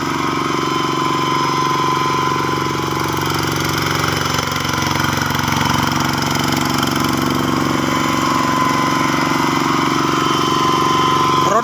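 An iron-wheeled tractor's engine runs continuously in a loud, steady droning rumble that holds close and unbroken throughout, with only slight shifts in pitch.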